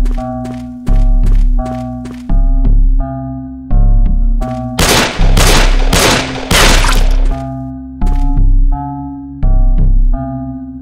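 Rapid metallic clanks and thuds of bullets striking a trash can lid held as a shield in The Happyhills Homicide video game, loud and repeated in bursts over a steady tonal game background, with a denser barrage in the middle.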